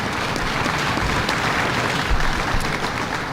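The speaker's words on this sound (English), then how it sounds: "Give her a round of applause." A room full of people claps steadily, a dense, even patter of applause with no voices standing out.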